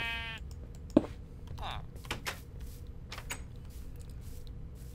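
A Minecraft sheep bleats briefly in the video game, a short nasal call among soft clicks and block-placing sounds, with no talk over it.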